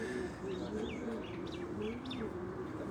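Pigeons call in an enclosure: soft low cooing runs under repeated short chirps, with a steady background hum throughout.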